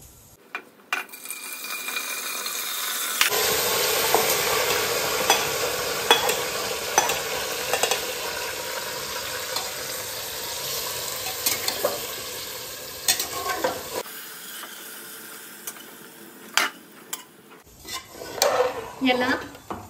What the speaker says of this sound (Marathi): याला प्रॉपरली मिक्स करून घ्यायचं।